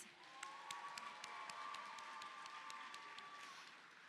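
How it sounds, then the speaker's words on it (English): Faint, distant applause from an audience at a high school merit assembly as students stand, steady scattered clapping with a sustained tone over it throughout. "Let's give them a round of applause."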